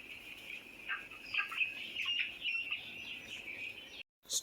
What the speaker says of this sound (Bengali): মুরগি কি বলে